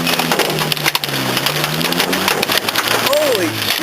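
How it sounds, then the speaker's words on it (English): Hailstones pound a moving vehicle during a major Oklahoma hailstorm, a dense, continuous clatter of impacts on the body and windows, with people talking over it close by. "Major hailstorm."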